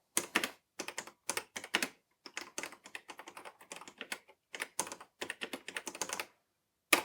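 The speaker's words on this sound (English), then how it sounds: "And we can just basically start typing and editing our document." Keys clatter on a Canon StarWriter 30 word processor, close and crisp, in quick uneven bursts of typing separated by short pauses, with no talking.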